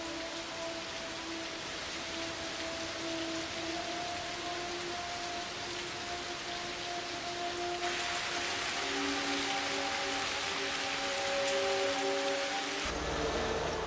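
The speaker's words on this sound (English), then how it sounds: "This endless rain creates a problem even bigger than mud." Steady, heavy rain on a Pacific War front hisses continuously, with faint tonal hums beneath and a brief shift in texture near the end; no voices.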